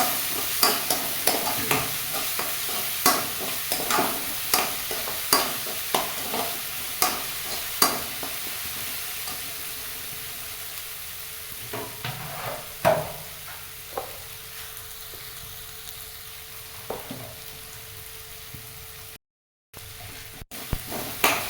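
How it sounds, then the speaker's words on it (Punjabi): Amla (Indian gooseberry) frying in a pan after garlic, ginger and green chillies, with a steady soft sizzle punctuated by regular stirring scrapes of a spoon against the pan, no voices. "ਬਸ ਆਪਾਂ ਨੇ ਥੋੜਾ ਥੋੜਾ ਜਿਹਾ ਫਰਾਈ ਕਰਨਾ ਹੈ ਜ਼ਿਆਦਾ ਆਪਾਂ ਨਹੀਂ ਫਰਾਈ ਕਰਾਂਗੇ"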